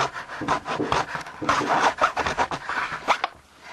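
A hand file rasping back and forth inside a drilled hole in a simple wooden puzzle, a loud, close, continuous gritty scraping in quick irregular strokes that stops near the end.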